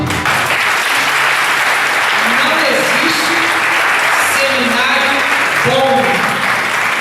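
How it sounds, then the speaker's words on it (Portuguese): A church congregation claps steadily throughout, dense and continuous, with a few voices calling out over the applause. "Pode aplaudir."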